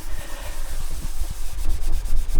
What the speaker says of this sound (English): like that on your sponge and give it a good old rub around, and I reckon this sink's going to be the cleanest it's ever been.